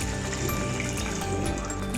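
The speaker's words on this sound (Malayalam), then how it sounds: "ഇതിലേക്ക് 1 കപ്പ് വെള്ളം ഒഴിച്ച് കൊടുക്കാം." Water from a cup pours into a cooking pan holding a soy sauce and ketchup mixture, a continuous close splashing and gurgling for about two seconds.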